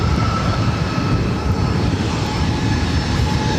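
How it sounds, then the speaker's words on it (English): A Delta Connection Embraer E175 jet, arriving from San Jose at LAX, gives a steady, loud broadband engine roar that holds evenly throughout, with no voices. "This is Delta Connection 3762 coming in from San Jose, California on an E175"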